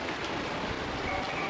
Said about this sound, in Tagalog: ganito na muna yung ulan.